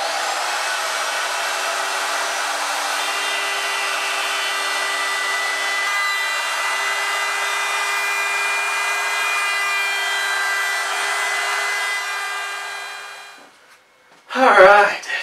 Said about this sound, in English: trim this to the perfect width with the router